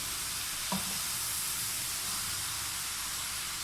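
Coarse spices such as whole garam masala, cumin powder, coriander and round red chillies roast in a hot pan for mash dal, giving a steady soft sizzle and hiss throughout with one brief faint stir near the start.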